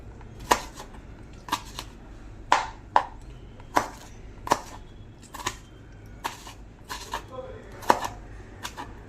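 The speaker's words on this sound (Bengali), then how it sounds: "টমেটো ছোট টুকরো করে কেটে নিলাম" A knife chopping tomato into small pieces on a board in a home kitchen while making veg chowmein, with about a dozen crisp, irregular knocks close by over a low steady hum.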